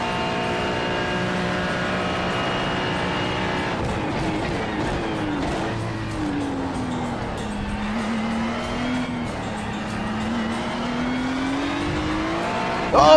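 A race car engine in the iRacing sim screams at high revs from too much throttle, holding a sustained whining tone that dips and climbs again, with tire noise beneath.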